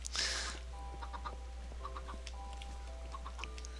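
Several Minecraft chickens cluck and chatter continuously in a soft, steady patter, with a brief hiss at the start and a low hum underneath.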